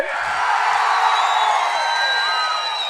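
A large outdoor political rally crowd in Markapuram cheers and whoops steadily in a dense, loud roar, with whistles cutting through and clapping mixed in.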